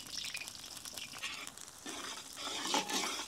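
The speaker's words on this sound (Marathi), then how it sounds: "त्या आपण आता व्यवस्थित तडक्यासाठी फ्राय करून घेऊ।" Green chillies frying in hot oil for the tempering of a Diwali thin-poha chivda, giving a steady, fairly loud crackling sizzle with bursts of spitting throughout.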